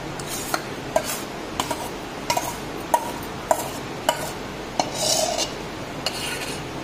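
A spoon stirs a cooled raw mango pickle mixture in a metal pot, tapping and scraping against the side in regular clinks about every half second, close and clear over a faint background.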